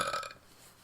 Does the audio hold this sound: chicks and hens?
no